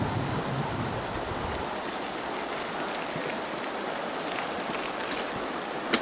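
A stream flows near Grundlsee lake in the Salzkammergut, giving a steady, even rushing hiss of water that continues without pause, fairly faint and with no voices.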